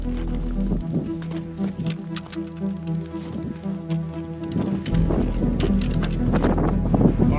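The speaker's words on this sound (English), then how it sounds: "the wind will stop soon because the wind is quite heavy" Heavy wind buffets the microphone on a steep, rocky mountain slope on Mount Kerinci in Sumatra. It makes a loud, low roar that gusts unevenly throughout and swells stronger in the last few seconds.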